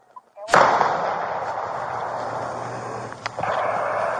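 During a police standoff, a loud, close gunshot rings out with a long echoing tail, followed a few seconds later by a second, fainter shot. A woman in the standoff was reported holding a shotgun.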